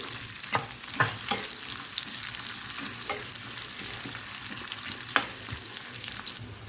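Onions frying in a pan with ginger and garlic for a dhaba-style egg curry, a steady close sizzle broken by several sharp knocks and scrapes of a spoon stirring against the metal.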